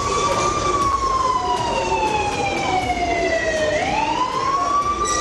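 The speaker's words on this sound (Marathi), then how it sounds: "सायरन वाजल्यानंतर नागरिकांना जवळ असलेला सुरक्षित निवारा शोधता येतो।" An air raid warning siren wails in a long, loud, sustained tone that slowly falls in pitch and then begins to rise again, heard clearly with no voices.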